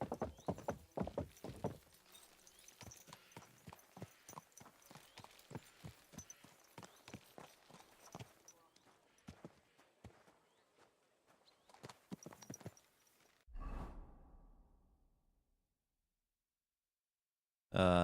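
Horse hooves clip-clopping in the medieval video game Kingdom Come Deliverance 2, a steady walking rhythm of sharp, close hoof strikes that slows and stops, followed by a brief snort or whinny near the end.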